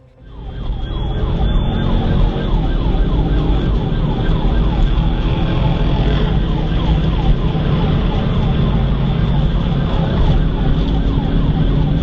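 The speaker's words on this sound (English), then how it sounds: "The trooper immediately activated lights and sirens" A loud police siren wails continuously during a chase, cycling rapidly up and down in pitch over a rumbling vehicle engine, close and sustained throughout.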